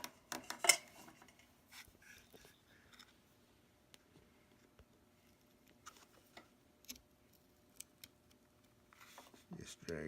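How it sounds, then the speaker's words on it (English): A hand-held knife, rocked back and forth, cuts a thin part of a swivel breach rifle kit, giving quiet, scattered scraping clicks and ticks with pauses between them. "I'm cutting it more like a knife cut"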